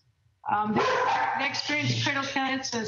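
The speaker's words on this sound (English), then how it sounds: "I'm sorry about the dogs." Dogs bark and yip repeatedly in the background of an indoor meeting, sustained throughout while someone speaks over them.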